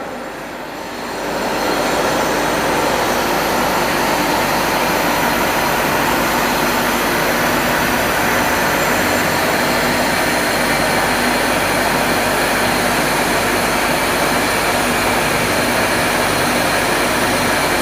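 Francis turbine test rig in a lab running at a constant 1000 rpm, a loud, steady broadband roar and whir that rises within the first second and holds evenly throughout, with no talk.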